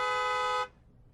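A car horn sounds in one steady, sustained honk lasting just over half a second, loud and clear, then cuts off to quiet background.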